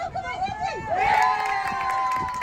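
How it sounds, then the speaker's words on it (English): Spectators cheering and shouting at an under-17 youth soccer match between the Chargers and the West Florida Flames, with rising whoops and excited voices over general crowd chatter, moderately distant. "that's the type of cheering that the Chargers may want"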